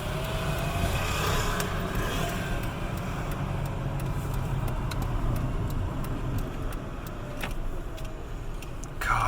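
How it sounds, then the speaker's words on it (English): Heavy road traffic at night in London, a continuous dense rumble of passing cars and engines in both directions with no break, steady and fairly loud throughout. "God, no, I've never known traffic this bad at this time of night down here."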